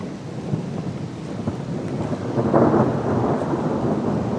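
Thunder during a thunderstorm at a solo truck campsite: low rolling rumbles build and swell over steady rainfall, with no voices.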